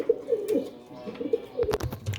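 Pigeons kept as a hobby pair coo repeatedly at close range, a series of soft throaty rolling calls in short bursts with light rustling and a few faint clicks around them.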